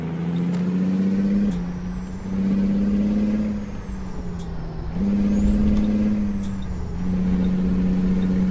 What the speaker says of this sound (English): Now you get to hear the sounds of the engine.